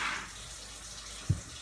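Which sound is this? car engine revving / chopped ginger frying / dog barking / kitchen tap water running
kitchen tap water running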